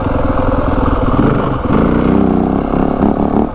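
A 2025 Yamaha WR 450F engine drones loud and close while riding in fourth gear, holding a steady rough roar and then climbing slightly in pitch as the throttle opens.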